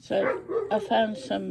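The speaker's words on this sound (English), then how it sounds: "excuse the dog barking" A dog barks repeatedly in the room while a person talks over it.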